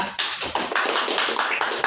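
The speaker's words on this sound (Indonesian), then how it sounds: "Baik, tepuk tangan semuanya" Applause in a microteaching classroom as students clap for the first group after their presentation, a dense run of overlapping hand claps close by, steady and fairly loud for about two seconds.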